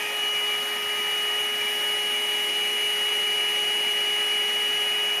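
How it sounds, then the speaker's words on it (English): A steady, loud air blower hisses and hums without a break, pushing white acrylic paint across a puddle during a blue spin acrylic pour, with no voices. "turn your blower and push the white over your puddle"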